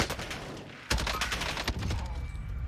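Automatic gunfire from a 3x Lapa submachine gun in Warzone: a rapid burst starts abruptly after a brief pause and continues as a dense, close rattle of shots.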